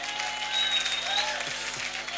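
Church congregation applauding and cheering in thanks during a service, a steady wash of clapping filling the room for a couple of seconds, with a faint tone in the background.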